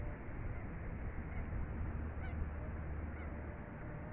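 Birds gather to be fed scattered rice outdoors in Saudi Arabia, a dense, continuous flock noise with goose-like honks heard at a distance over a steady broadband roar, with no talk.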